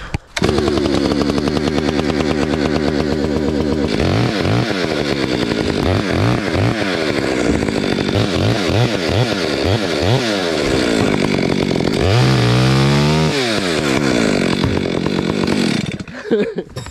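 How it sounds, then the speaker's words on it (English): Chainsaw pruning back a vine maple up in a dead fir tree, loud and close, revving repeatedly in short bursts as it cuts, then a rising rev and a drop to idle before it stops. "We're gonna prune this vine maple back."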